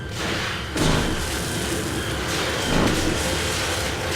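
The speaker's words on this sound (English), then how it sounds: "Explosion!" An explosion in Assassin's Creed Rogue comes as two broad, rumbling bursts over steady background noise, the second smaller than the first.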